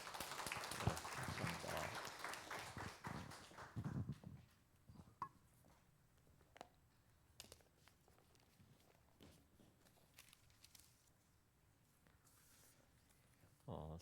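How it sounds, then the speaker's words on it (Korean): A church congregation applauds to welcome a guest preacher at a dawn revival service, a loud burst of clapping for the first few seconds that dies away into quiet room noise, scattered shuffling and faint sounds. "우리 나오실 때 우리 큰 박수로 환영하겠습니다"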